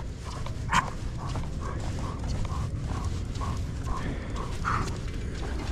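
Husky sled dogs move and pant close by on a mountain trail, with a steady rhythmic breathing and soft footfalls repeating throughout at moderate volume.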